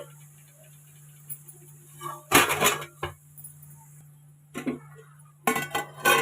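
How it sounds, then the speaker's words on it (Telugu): A metal lid clatters onto a pan of spinach on a stove with a few sharp clinks and rattles. Short bursts of clanking follow over a quiet steady hum. "ఒకసారి మూత పెట్టేసుకోవాలి"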